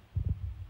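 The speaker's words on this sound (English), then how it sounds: "Okay, his heartbeat is normal now." A deep, muffled heartbeat of the Warden in Minecraft gives two quick low thumps in a row, then fades into a soft low hum.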